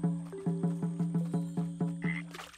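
A frog croaks in steady rhythm in the Snufkin: Melody of Moominvalley video game, about a dozen evenly spaced, close, resonant croaks with a brief bright chirp near the end.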